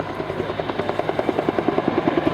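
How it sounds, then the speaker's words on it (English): Bell UH-1 Huey military helicopter with its steady rhythmic rotor thump, a fast regular beat sustained throughout at moderate distance, no voices. "has there ever been a more famous American military helicopter than this? The sight and the sound hugely distinctive."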